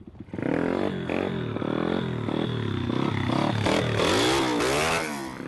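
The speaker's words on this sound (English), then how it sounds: "And now he's going to do a good wheelie." A dirt motorcycle revving hard through a wheelie, the engine rising and falling in steady surges under throttle and clutch, loud and close throughout.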